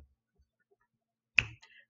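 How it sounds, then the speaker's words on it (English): A single crisp finger snap, close and sharp, after near silence, with a brief faint tail. "When I snap my fingers, you're gonna read the word."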